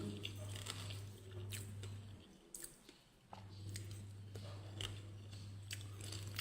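Close, moist chewing and biting of food by a person eating alone, soft squishy crunches repeating over a low steady hum, with a brief quieter gap in the middle.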